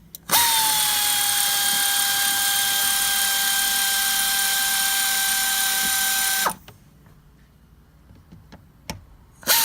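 Power drill removing bolts from a Chevy Silverado driver's-side door panel, a loud, steady high-pitched whine running for about six seconds before stopping abruptly, followed by faint clicks and handling noises.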